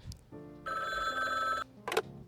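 A telephone rings in the video game Frog Detective 3, a bright electronic bell tone sustained for about a second, clear and close, preceded and followed by brief soft game sounds.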